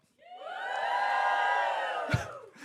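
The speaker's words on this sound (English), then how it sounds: "Can I get a cheer for the sexy start?" A live show audience bursts into cheering and whooping, a loud crowd roar that swells and holds for about two seconds before dying down.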